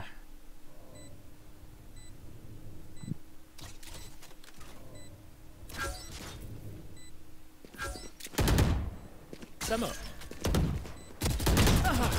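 Gunfire in the video game Valorant, with single shots and rapid bursts growing louder and denser toward the end, plus faint interface beeps over a quiet background.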